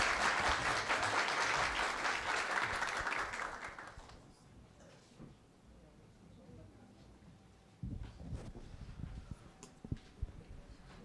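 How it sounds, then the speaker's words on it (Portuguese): Audience applause at the Fórum Deep Tech Recife 2025 panel session, a dense burst of clapping for about four seconds that fades out, followed by quieter room noise and a few scattered sounds. "Uma salva de palmas, pessoal."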